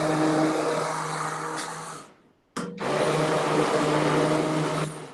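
A big immersion blender whirring through green soup in a giant stock pot, a loud steady motor drone that cuts out briefly, restarts with a short burst, then runs on steadily before tapering at the end.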